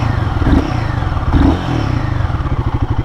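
A Royal Enfield Guerrilla 450 roadster motorcycle engine revving with the throttle, showing a slight throttle lag, loud and close, with throaty swells of revs settling into a rapid pulsing idle thump.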